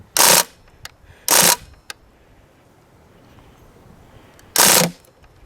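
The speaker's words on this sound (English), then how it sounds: "Okay, short bursts. It's gonna go full auto." A full-auto Tommy gun style BB gun fires three short bursts, each a loud, dense rattling burst of about a quarter second, spaced apart by quiet gaps with faint clicks between.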